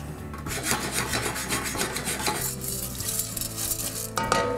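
Popcorn kernels rattled and shaken in a pot on a stovetop, a steady scraping, rasping swish with faint sizzling underneath, close and continuous, a few brighter clinks near the end.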